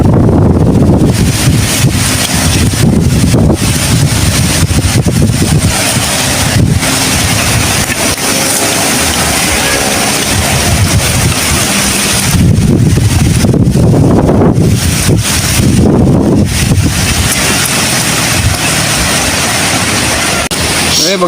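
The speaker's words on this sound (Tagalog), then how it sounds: "Mahangin dito sa sa palayan." Strong wind buffets the microphone over open rice fields, a loud continuous roar with gusting surges that swell and fade throughout, no voices heard.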